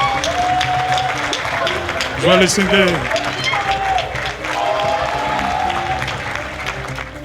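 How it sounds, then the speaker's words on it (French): Audience applause at a French-language television media tribute, a broad wash of clapping and crowd noise that swells and fades while a voice speaks over it. "Je voulais que vous applaudissiez pour Guy Zogo."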